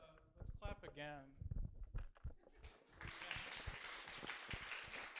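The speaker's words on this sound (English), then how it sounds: "Let's clap again." Clapping from a small audience at a developer meetup, a faint but dense patter of hands that starts partway through, following a short stretch of talking.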